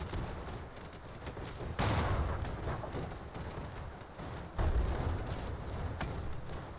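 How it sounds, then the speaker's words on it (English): An Imperial cannon in the airship battle game Airships: Conquer the Skies fires two heavy booms a few seconds apart over a dense, continuous rumble of gunfire and explosions. "With that Imperial cannon firing, we are causing pretty significant damage"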